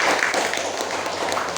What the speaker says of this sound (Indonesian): Coba kasih tepuk tangan untuk kawannya kelompok C yang sudah tampil.